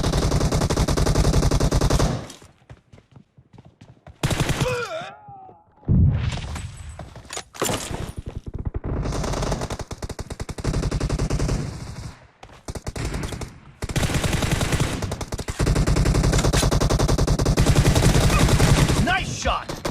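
Heavy automatic gunfire in a PUBG Mobile team deathmatch: loud, close bursts of rapid shots broken by brief silent pauses, with a few faint voice calls in between.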